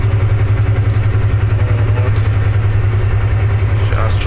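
A car engine idles at a roadside rest area after a long climb, a loud, close, low pulsing rumble that stays even and unbroken throughout.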